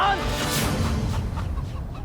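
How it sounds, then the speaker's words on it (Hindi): Chickens clucking in a group, short broken clucks heard close and fairly loud, mixed in with dramatic dialogue and effects over about two seconds. "यहाँ तो अनेकों मुर्गियां उपस्थित थी"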